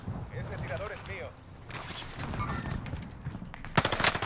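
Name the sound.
gunfire in Call of Duty Warzone video game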